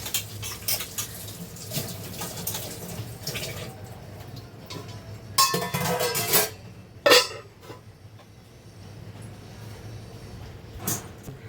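A lid clinks onto a pan of jitada fish cooking in Agri masala, with sharp metallic knocks and rattles standing out over a soft sizzle and kitchen clatter.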